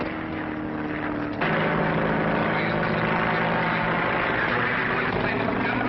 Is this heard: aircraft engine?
yes